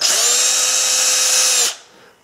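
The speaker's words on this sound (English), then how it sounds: "spin it on the grinder" A drill spins a foam sanding mandrel against a grinder, giving a loud, steady high-pitched whine heard up close for under two seconds before winding down and fading.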